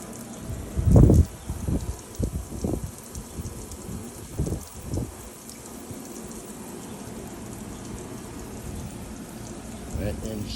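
A water spray rinses an outside window, a steady hiss that runs on through most of the stretch, preceded by a few louder splashy bursts near the start.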